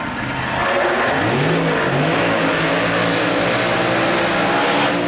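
A top methanol dragster roars at the Santa Pod drag race in 2005, its loud, continuous engine blast filling the air with rising tonal revs, close and overwhelming throughout.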